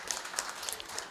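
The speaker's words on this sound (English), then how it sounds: "Round of applause for Ezra as" Audience applause at a regional quality-infrastructure meeting: brief, moderately faint scattered clapping with sharp individual claps, no speech over it.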